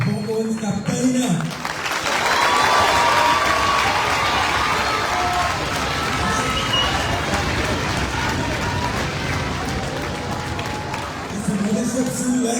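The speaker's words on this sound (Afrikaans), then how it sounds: "we gaan klap vir ons kapteine" An audience at a school learner function applauds its team captains: a sustained burst of dense clapping and crowd noise lasting about ten seconds, with speech just before and after.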